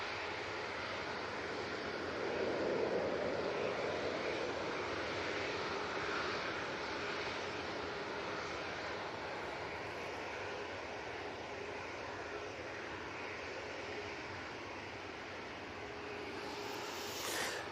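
An Airbus A220 takes off at Manchester Airport bound for Paris, a steady broad engine roar that swells slightly early on and holds at moderate distance throughout, with no voices.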